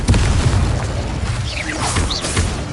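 A Confringo spell explosion in Hogwarts Legacy bursts as a heavy, loud boom with a rumbling tail, followed by whooshing magical swirls.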